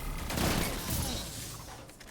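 Weapon fire in a video game comes as a quiet, rumbling burst of shots, with a rough, textured rattle that fades out after about two seconds.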